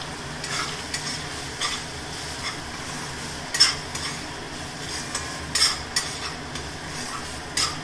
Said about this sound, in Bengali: খানিকটা নারকেল আগে ভেজে নিই